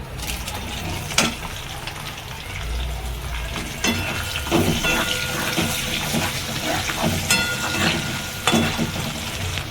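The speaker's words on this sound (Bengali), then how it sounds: "কড়াইয়ে আমি পেঁয়াজ দেব, তারপরে পেঁয়াজ দেব, লং, দারচিনি, এলাচ, তেজপাতা আর একটা শুকনো লঙ্কা।" Onion, cloves, cinnamon, cardamom, bay leaf and a dry chilli fry in a wok with a continuous hissing sizzle, marked by clinks and scraping stirs at close range.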